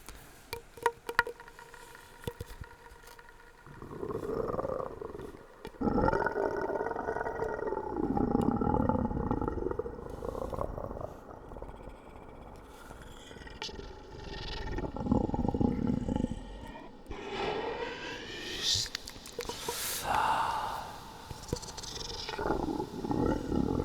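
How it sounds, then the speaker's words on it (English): Deep, rumbling lion growls build and rise through a steady ambient bed, recurring in long swells that fill most of the stretch, loud and close, with no talk over them. "Greasy Bites, I don't think you heard enough lion growl for one day"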